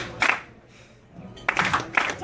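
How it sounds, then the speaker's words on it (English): An audience at a breakfast networking mixer claps together in short bursts, a couple of separate clusters of hand claps separated by a quiet gap. "Clap your hand like"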